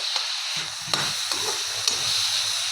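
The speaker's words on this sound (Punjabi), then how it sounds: "ਬਸ ਥੋੜਾ ਜਿਹਾ ਸੇਕ ਲਵਾਵਾਂਗੇ ਇੱਕ ਅੱਧਾ ਮਿੰਟ ਸੇਕ ਲਵਾਵਾਂਗੇ ਪਿਆਜ਼ ਟਮਾਟਰ ਨੂੰ" Chopped onions and tomatoes sizzle steadily in a hot pan while being roasted for pasta, a continuous frying hiss with a few soft stirring knocks and scrapes, fairly close and alone without talk.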